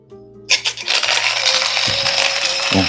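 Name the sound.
CF Wisdom rechargeable coffee grinder grinding beans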